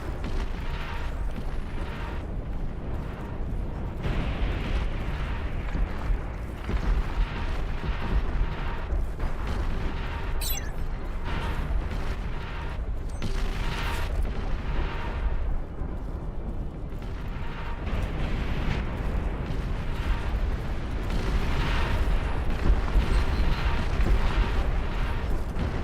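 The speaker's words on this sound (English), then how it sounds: "Long-range plasma cannons are targeting your area." Long-range plasma cannon shells from the real-time strategy game Beyond All Reason land as a continuous rumbling barrage of booms and bursts during a massive battle, dense and steady throughout with no talk.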